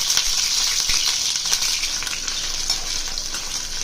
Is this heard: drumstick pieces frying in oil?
yes